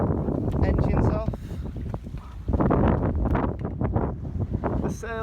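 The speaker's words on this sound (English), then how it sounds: "Got a nice low breeze" A low breeze buffets a sailboat at sea with the engine off, a steady close rumble of wind across the microphone with faint water and rigging sounds, and no talking over it.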